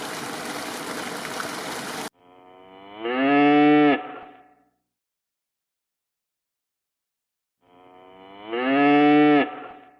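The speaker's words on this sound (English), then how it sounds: "Cow." A cow moos twice, each call a long, loud, harmonic low, separated by a few seconds of silence, after a brief burst of running water or stream-like noise at the start.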